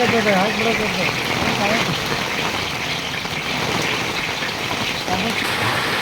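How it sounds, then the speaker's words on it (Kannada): Heavy rain pours down in a steady, unbroken roar the whole time during a wedding turmeric ceremony, with faint voices now and then underneath. "ಮಳೆ ಅಂತೂ ಸಿಕ್ಕಾಪಟ್ಟೆ ಬರಾಕತ್ತೆ"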